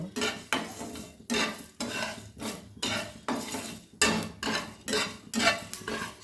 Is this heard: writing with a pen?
no